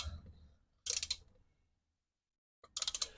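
Bolts on a Holley intake manifold are tightened in sequence during a Blazer build, with two short bursts of ratcheting clicks separated by a quiet gap, close and fairly soft.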